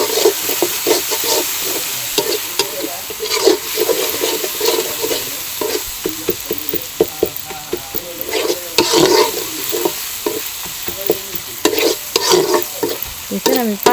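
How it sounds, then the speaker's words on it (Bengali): Garlic paste fries in oil while a spoon stirs and scrapes the pan, producing a loud continuous sizzle broken by repeated clattering stirring strokes, with no talking. "তেলের ভিতরে ভেজে নেব রসুন বাটা।"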